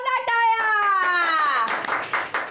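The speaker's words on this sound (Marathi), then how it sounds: "जोरदार टाळ्या" On a Marathi TV show, a sustained sung or held voice note fades into a couple of seconds of lively hand clapping from a small audience applauding a child's song.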